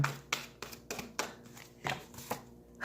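A deck of tarot cards is shuffled by hand close up, making a quick series of papery riffles and soft slaps that come in uneven bursts with no talking.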